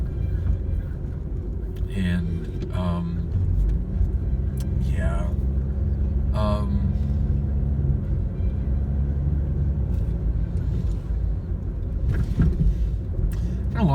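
A car drives along a back road in Maryland, its engine and road rumble steady and close underneath intermittent talking from inside the vehicle.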